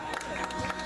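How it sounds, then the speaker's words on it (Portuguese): A crowd at a birthday celebration applauds and cheers for Camille in a brief, busy burst of clapping mixed with voices. "aplausos para a Camille"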